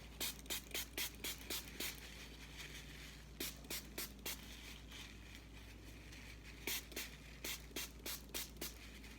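Water is spritzed from a spray bottle onto an egg in quick bursts of short hissing pumps, grouped in clusters with pauses between them, faint and close.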